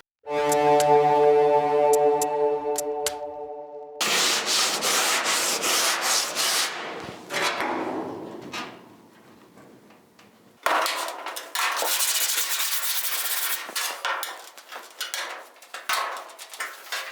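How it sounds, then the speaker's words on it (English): A sanding block rubbed over the sheet metal of a 1958 Chevy Cameo truck panel, loud, rasping strokes in two long bursts after an opening ringing tone, close and without talk. "after I passed the sanding block over this"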